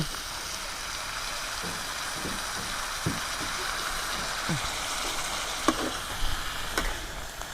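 Mixed vegetables stir-frying in a pan after a splash of water is added, giving a steady, moderate hiss of sizzling with scattered scraping and clinks from stirring, and no talk.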